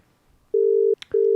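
An outgoing telephone call to Perth rings out through a studio phone line, two long steady electronic tones separated by a short gap with a brief click between, clear and alone.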